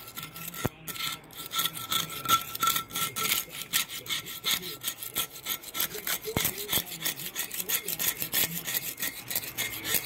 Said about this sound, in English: Comes off pretty easy, not much effort being put in scraping it.